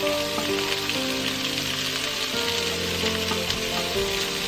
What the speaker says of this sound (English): go ahead and add in your onion